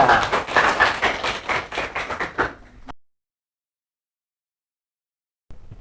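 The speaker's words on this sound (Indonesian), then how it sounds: "Kasih tepuk tangan untuk kelompok 3." Students in a classroom clap for a group of classmates, a fairly close, dense burst of claps lasting about three seconds before cutting to silence, with a faint sound returning at the very end.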